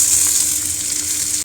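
Potato and taro pieces frying in a pan with onions, a steady close hiss of sizzling oil without a break.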